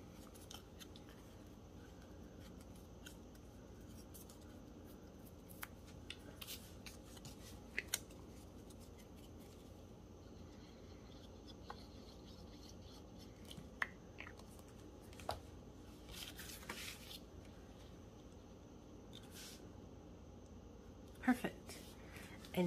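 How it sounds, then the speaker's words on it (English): Scraps of paper are torn for a collage on an envelope journal page, with soft scattered rips and rustles over a low steady background and a sharper crisp tear near the end. "And then I think I'm gonna tear this little edge a little bit too."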